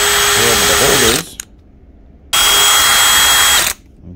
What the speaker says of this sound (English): And you make a hole right there, and then you drill